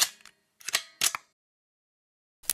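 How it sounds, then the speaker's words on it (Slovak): Airsoft guns firing during a game: a few sharp, snappy cracks in a quick cluster, then a long silence before one more isolated shot, fairly close and with no speech. "Počuješ to? Asi po nás niekto strieľa."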